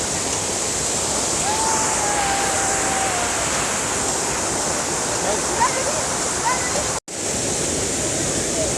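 Waterfall in the Oloolua forest near Nairobi, a steady, loud rushing roar of falling water close by, unbroken for several seconds, with faint bird calls and a brief dropout near the end.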